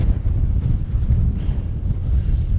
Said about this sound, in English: the wind's behind me a bit here